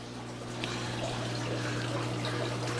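Water trickles steadily from a waterfall in a home aquarium, a constant close splashing over a low hum.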